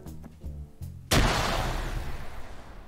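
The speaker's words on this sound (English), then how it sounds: "Oh, I can throw a grenade." A grenade explosion in ArmA 3 hits as one loud, sudden blast after a few short faint sounds, then trails off into a long rumbling decay.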